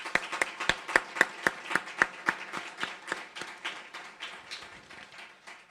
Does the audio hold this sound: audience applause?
yes